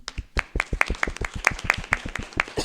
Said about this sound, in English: could you just like stand up for a second so we can clap at you?